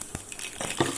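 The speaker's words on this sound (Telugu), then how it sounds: "గిన్నె వేడి కాగానే తర్వాత అందులో ఆవాలు జీలకర్ర" Mustard seeds and cumin dropped into hot oil in a pot on the stove crackle and sizzle, with a few sharp pops and light clinks of a utensil stirring, close and brief.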